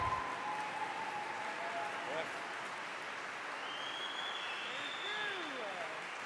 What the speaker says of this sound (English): stand up, clap your hands, stamp your feet, drum your drums